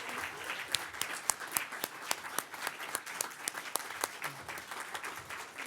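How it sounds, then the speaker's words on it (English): An audience at an arts and business awards ceremony applauds, a crowd of many hands clapping steadily throughout, lively and sustained, heard from within the room. "a round of applause for Ellie King as our Legacy Award winner"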